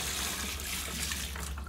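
Water poured from a bucket into the tub of a Twin Spin XPB36-388S twin tub washing machine, a brief, close, continuous rush and splash of liquid with no voices.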